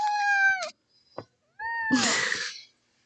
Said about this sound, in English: This is my cat Sophie.